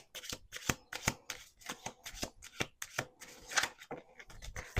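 A tarot deck shuffled in a rapid run of soft, close card flicks and slaps, steady rhythmic bursts packed tightly together at low volume.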